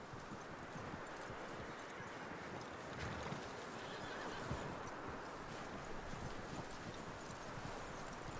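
Hooves clip-clop along with an occasional horse snort, set against a steady windy outdoor ambience, in the video game Red Dead Redemption 2.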